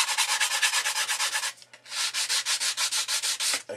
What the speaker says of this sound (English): rub just to get rid of any sharp edges.